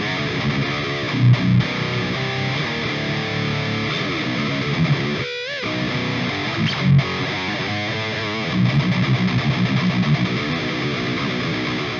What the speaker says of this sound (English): By the way, the guitar I use is an old Schecter Jeff Loomis signature model, 7-string guitar